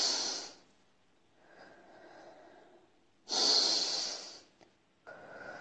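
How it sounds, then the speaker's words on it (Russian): Deep breathing during a guided breathing exercise in a psychology consultation, with loud, close, airy exhalations and softer inhalations in a slow rhythm, alone without talk. "Дышим, дышим."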